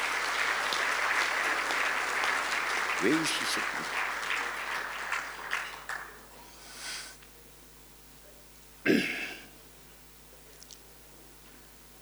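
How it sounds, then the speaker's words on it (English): Guests at a 70th birthday celebration give a round of applause that fades out over several seconds, followed by a voice briefly asking a question and a few scattered sounds in the room. "Please give her a hearty round of applause."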